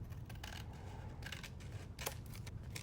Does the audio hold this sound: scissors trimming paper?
yes